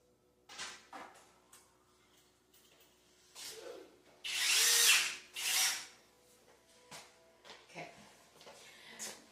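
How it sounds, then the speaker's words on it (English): Short bursts of a cordless power drill whirring in spurts as it drives screws, with a couple of louder sustained runs in the middle and handling noises between them. "This is where if you have a drill, you can use it once you got those started."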